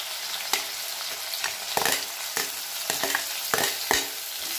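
Onions frying in a pan with ginger-garlic paste for a mushroom curry, a continuous close hiss of sizzling oil punctuated by regular scraping stir strokes, no speech.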